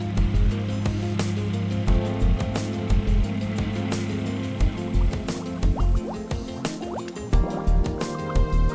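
Water pours and splashes into the excavated pit around an underground Duraplas tank during backfill compaction, a continuous fill sound with drips and gurgles, close and moderately loud.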